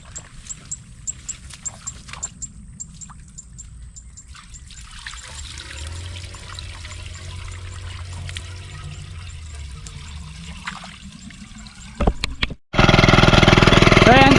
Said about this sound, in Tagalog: lagyan mo muna ng tubig to